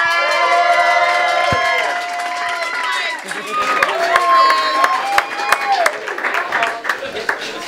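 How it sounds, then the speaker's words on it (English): A comedy club crowd in Boise cheers, whoops and claps as a comedian takes the stage; loud applause and shouting swell unevenly over several seconds, with voices calling out throughout. "Ladies and gentlemen, please give a big round of applause to my friend Lauryn Petrie, everybody."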